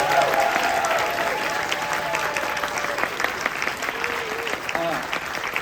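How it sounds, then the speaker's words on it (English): A crowd claps steadily in sustained applause, with a few voices and cheers rising over the dense clapping throughout. "So can we get one more round of applause for the AV team?"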